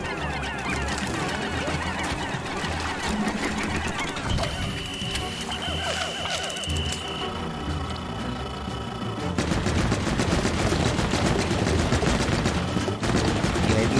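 Rapid bursts of enemy gunfire in Pikmin 4 crackle steadily, growing denser and louder in the second half, with dense game sound effects layered throughout and no one talking.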